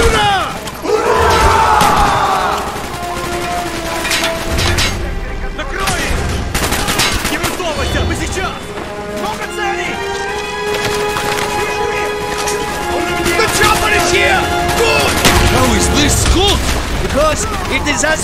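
Gunfire rings out in a Call of Duty: Black Ops battle during the Vorkuta mission, with dense bursts of shots mixed with shouting soldiers, a crowd and a steady music bed throughout.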